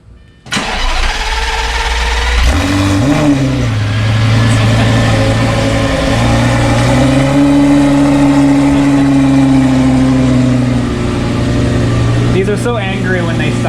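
A cold Lamborghini V10 fires up with a sharp starter catch, then settles into a loud, steady, rumbling high idle that swells slightly mid-way and holds close and strong, with voices faintly beneath.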